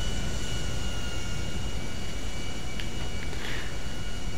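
An airplane in GTA 5 Online takes off with a steady, loud, broadband engine roar that holds evenly throughout, with a few faint high tones near the end and no talking.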